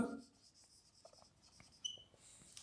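Marker or chalk strokes on a classroom board during a lecture on tracing Cartesian curves, a few short scratchy squeaks and taps spread across a quiet room, close and fairly faint, with no talking.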